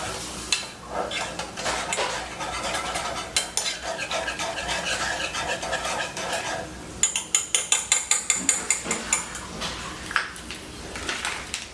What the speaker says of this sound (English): I'm going to mix in my Italian seasoning, dressing mix